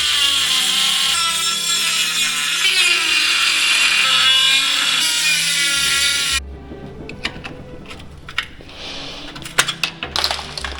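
A power tool cuts into rusted metal in a Mini wheel arch for about six seconds with a loud, harsh grinding screech, then stops, leaving scattered clanks, scrapes and taps of metal pieces being handled.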